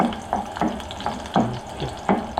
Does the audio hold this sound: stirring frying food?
yes